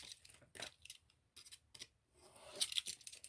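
Scissors trimming paper pages while sorting them for binding a journal, a few close, crisp snips separated by brief pauses, followed by light paper handling.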